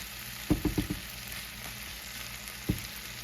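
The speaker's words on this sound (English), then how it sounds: "And that's the fat that we use to fry these up in. I'm just gonna get this fried up, get these taters done." Potatoes fry in leftover burger fat in a pan, a steady close sizzle broken by a quick cluster of scraping, clanking stirs early on and one more stir near the end, with no talking.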